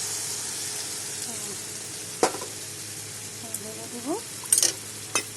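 Cashew and melon seed paste sizzles in hot oil and spice mix for a Bengali pointed gourd vegetable dish, a steady close frying hiss broken by a few sharp clinks of a spoon against the pan.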